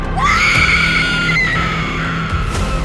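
A woman lets out a long, loud, high-pitched scream of fright that holds for over two seconds against a rumbling background.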